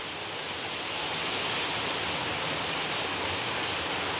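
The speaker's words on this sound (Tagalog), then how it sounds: "Maulan na hapon, guys." Steady rain pours down on a rainy afternoon, a dense, even hiss that holds constant without any break or voices.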